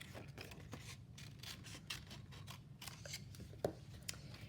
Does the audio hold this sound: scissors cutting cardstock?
yes